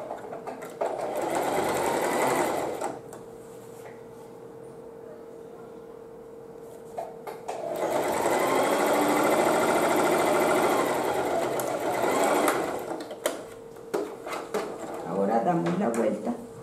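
A sewing machine stitches a vintage dress in two sustained bursts of rapid, steady whirring, separated by a pause, with someone talking throughout.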